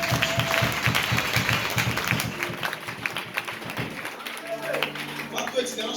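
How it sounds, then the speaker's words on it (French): Congregation at a church service applauding together, dense steady clapping at the start that thins and softens toward the end, with voices and room sound mixed in. "Acclamez pour vous-même."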